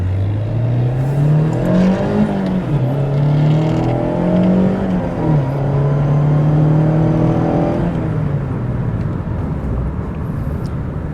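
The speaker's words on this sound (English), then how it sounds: "this is the sound of the intake with the top up" A Mazda MX-5 Miata ND engine with a CorkSport cold air intake revs up and down repeatedly, its intake drone rising and falling in pitch, loud and close throughout, with the top up.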